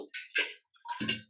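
Water poured glass by glass onto soaking rice for jaggery rice prasadam, giving short splashing pours in two bursts separated by a brief pause, close and fairly quiet.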